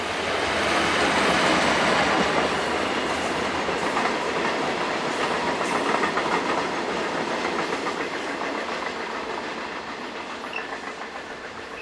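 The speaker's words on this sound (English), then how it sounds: "number 11654 is captured passing through Rupperswil" A Swiss Re 6/6 electric locomotive, number 11654, rolls through Rupperswil station with a steady loud rumble and rhythmic wheel clatter that swells early and then slowly fades as it passes.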